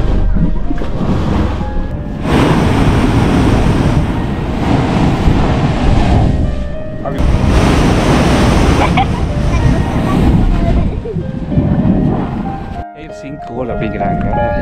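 Seawater surges and bursts up through rocky blowholes on a Salalah beach in Oman, a loud broad roar of rushing, splashing water in repeated swells with wind buffeting, while a person talks over it.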